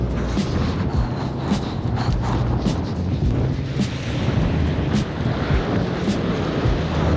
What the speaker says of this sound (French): il y a énormément de vent comme vous pouvez le voir à la vidéo